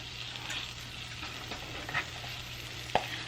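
Maryland-style crab cake patty frying in a skillet, a soft steady sizzle with a couple of light clicks and one sharp tap near the end, close but quiet.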